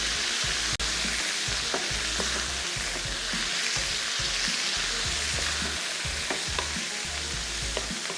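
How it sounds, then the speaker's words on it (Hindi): Chicken fries in a pan with small, very hot green chillies, giving a steady, dense sizzle throughout, with occasional scraping stir sounds and one sharp tap, close and without talk. "और इसके साथ खूब अच्छे से चिकन को करना फ्राई"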